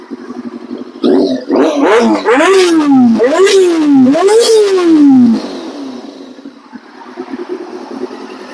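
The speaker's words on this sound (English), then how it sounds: "I'll give it a bit of a rev for everyone so you can hear what the old schools sound like" A 2000 Yamaha R6 motorcycle engine revs hard several times in quick succession, each rise in pitch climbing and dropping back, loud and close before settling into a quieter idle.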